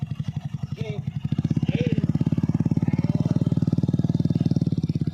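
A learner rider's motorcycle engine chugs and idles in a steady rapid pulse, its throttle eased on gently and slowly, loud and close throughout with a faint background voice.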